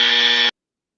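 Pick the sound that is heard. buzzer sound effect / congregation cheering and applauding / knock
buzzer sound effect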